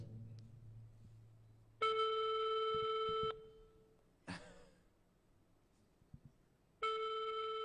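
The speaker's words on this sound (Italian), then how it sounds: "No, facciamo solo una telefonata audio, vediamo se almeno risponde." Ringback tone of an outgoing audio phone call, two long steady beeping rings separated by a pause, with faint background rustle and a brief knock between them.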